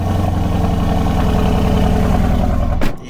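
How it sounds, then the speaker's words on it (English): Mercedes-AMG C63S started from cold: a loud, steady engine roar with strong low rumble holds for nearly three seconds, then cuts off sharply near the end, with no talking. "So let's give you guys a cold start because my car is currently cold."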